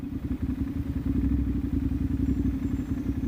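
A Ducati Monster motorcycle engine runs slow and smooth at low speed, a steady, close, lumpy thrumming pulse with light clatter and no other sounds.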